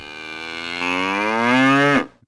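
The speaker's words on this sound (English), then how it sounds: "The cows are mooing for that one." A cow moo from a soundboard sound effect, one long, loud, close bellow that slowly swells and rises in pitch before cutting off abruptly into silence.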